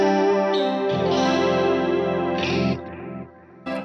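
Electric guitar notes drenched in delay and a shimmering octave-up layer, with no reverb yet, sustained chords swelling and echoing before fading into a quieter tail.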